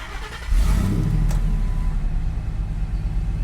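A Ford SVT Lightning pickup engine cranks and fires up with a sudden loud burst, then settles into a deep, rumbling idle heard up close.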